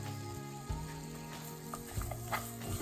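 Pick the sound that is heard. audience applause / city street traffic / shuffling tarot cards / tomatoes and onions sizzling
tomatoes and onions sizzling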